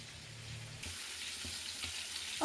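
Food fries in coconut oil with a steady broadband sizzle that grows louder and fuller after the first second, carrying on evenly with faint bubbling and no talk.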